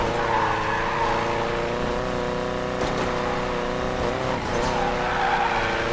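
In Need for Speed Payback, a rear-wheel-drive VW Beetle drifts with sustained tire screech layered over a steady droning engine, loud and continuous for several seconds, with no one talking.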